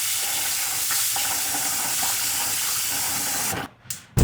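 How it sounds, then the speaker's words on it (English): Water running into a pan at a chef's kitchen station, a steady rushing stream that fills the space, then cuts off abruptly near the end with a couple of short clunks. "So I'm gonna fill this up with water."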